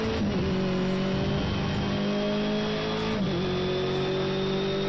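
Race car engine in a racing video game at the Brno circuit, revving hard and steady under acceleration, loud and close, with a brief dip around a gear change before pulling again; tyre noise blends beneath.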